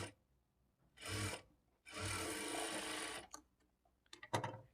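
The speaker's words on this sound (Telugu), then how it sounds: "1/2 ఇంచ్ మార్జిన్తో స్టిచ్ చేసుకోవాలి" A sewing machine stitches blouse lining in short runs. A brief burst is followed by a longer steady whirring stretch, then scattered clicks and a final short burst, close and moderately quiet with no talking.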